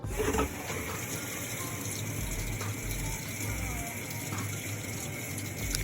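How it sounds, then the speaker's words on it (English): Water runs from a faucet through a drainage hose taped in place into a sink beside a Black and Decker portable washing machine, a steady close hissing splash with a constant high whine and low rumble throughout. "make sure that the water flow is going in my sink and not flip-flopping everywhere"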